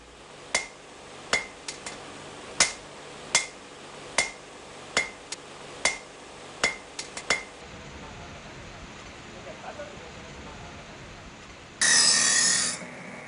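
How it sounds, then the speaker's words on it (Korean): Hot iron hammered by hand while forging a Chinese cleaver: about a dozen sharp metallic strikes with ringing clinks in an uneven rhythm, then quiet workshop ambience and a short burst of hissing noise near the end. "뜨거운 쇠를 두드리며 작업을 하는 게 상당히 힘들어 보였는데요"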